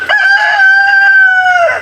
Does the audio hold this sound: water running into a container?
no